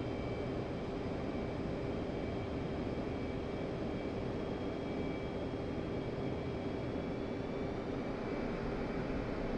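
F-15C twin jet engines in the DCS World flight simulator drone steadily at full military power for takeoff, a constant even roar with a high whine and no voices.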